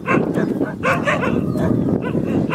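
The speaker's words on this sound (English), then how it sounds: "There's a pack of wild dogs," A pack of wild dogs in Ecuador bark and yelp together in a loud, continuous chorus, with overlapping barks close by and no pause.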